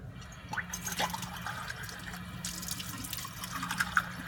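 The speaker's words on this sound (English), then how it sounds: "So rinse your beaker." Tap water running into a lab beaker as it is rinsed, a soft splashing flow with a few drips and light clinks, fairly quiet and without voices.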